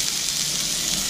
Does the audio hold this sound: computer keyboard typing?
no